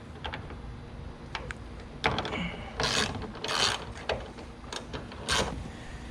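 A ratchet wrench loosens a bolt on a Cobalt dual hood lift fitted to a 124 Spider/MX-5 ND, giving short bursts of quick metallic clicks with pauses in between.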